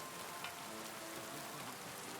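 Steady rain falls in Kingdom Come Deliverance 2, a dense, even hiss of drops on surfaces that carries on unbroken and alone, with no speech.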